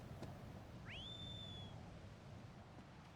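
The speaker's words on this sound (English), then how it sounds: "I can whistle for you and make you sad you can't be with me." A single rising whistle in Shadow of the Colossus, blown to call the horse, sounding faint and distant with a sliding pitch that holds briefly before fading over low wind-like background noise.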